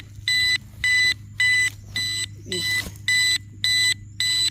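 A metal detector alarm beeps in a steady pulsing rhythm, about eight regular bursts, loud and close, with a low hum and brief murmuring underneath.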